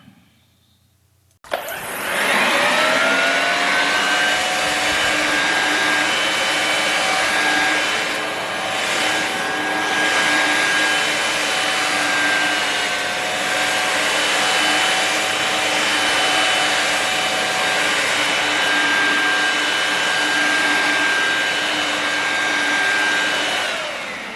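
A Ryobi Expand-It leaf blower attachment starts abruptly after a short quiet moment, then runs as a loud, continuous high-pitched whine and rush of air for about twenty seconds with only slight wavering.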